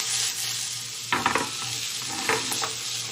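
A pan of garlic fried rice sizzles steadily as it is shaken and stirred, with clusters of scraping and rattling strokes in the middle of the clip, heard close with no voices.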